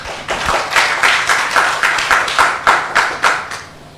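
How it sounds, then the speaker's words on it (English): Audience applause for the panelists at the close of a city transport planning session, a steady round of loud clapping with rhythmic swells that fades out at the end. "Let's give our panelists another round of applause."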